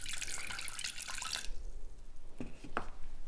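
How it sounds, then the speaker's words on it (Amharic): Warm water is poured into a barley and teff injera starter, a loud, splashing stream for about a second and a half, then stopping, followed by a few scattered drips and small knocks. "በመቀጠል ሞቅ ያለ ውሃ፣ በጣም የፈላ ውሃ ሳይሆን ሞቅ ያለ"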